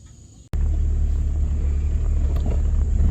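1997 Jeep XJ with 3 inch lift, 31x10.50 tires and 3.55 gears driving, a sudden loud onset of deep engine and road rumble that holds steady and close, with a slight shift in tone midway.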